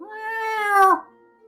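A cat gives one drawn-out meow lasting about a second, with clear rising and falling harmonics, close and moderately loud, then silence.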